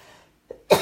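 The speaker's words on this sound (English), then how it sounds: "Now I'm gonna have a coughing fit" A single woman's cough erupts sharply and close after a small throat catch, loud and brief against near silence.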